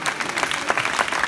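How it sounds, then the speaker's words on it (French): A crowd gives a brief burst of dense, lively applause at an official season presentation of a handball club's teams, close and continuous from start to finish. "Et j'espère vous voir les applaudir."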